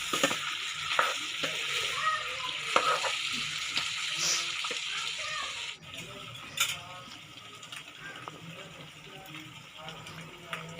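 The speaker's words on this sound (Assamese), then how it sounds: "অলপমান লৰাই থাকিব এনেদৰে মাংসখিনি" Duck meat and onions fry and get stirred in a pan, giving a soft sizzle under intermittent scraping and clinks of the spatula, with someone talking over the cooking.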